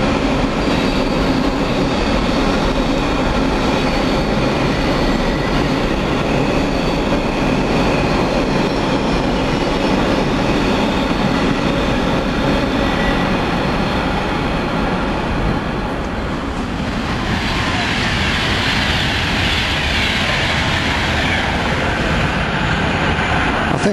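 A freight train rolls past for a long stretch, with a steady loud rumble of wagons, rhythmic wheel clatter and a brighter, hissier rush toward the end.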